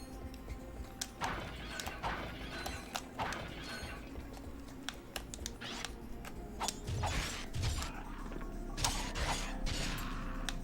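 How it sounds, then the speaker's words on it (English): Slot machine in the game Ratchet & Clank: Going Commando spins with a busy run of mechanical clicking and ratcheting, repeated sharp ticks over a steady whirring bed, with no talking. "I really like playing with the slot machines."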